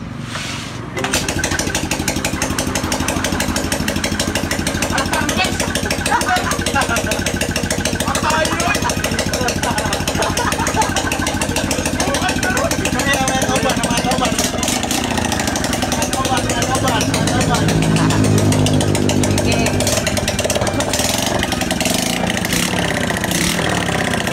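Modified Suzuki Skydrive scooter engine starting and then running, a loud steady buzzing idle with rough knocking texture, close by, lasting throughout with people talking over it.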